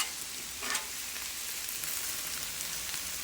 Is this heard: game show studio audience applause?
no